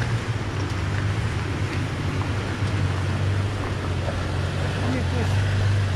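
A pickup truck climbs an off-road trail in two-wheel drive, its engine a steady low drone with rough wind noise over it for the whole stretch. Faint voices may sit under the noise.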